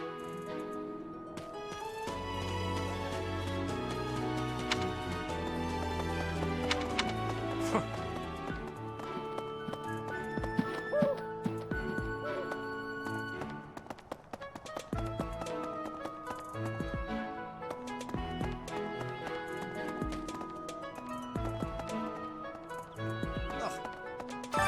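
Horses clip-clop steadily in Fire Emblem: Three Houses, a soft rhythmic trot of hooves beneath background music and speech.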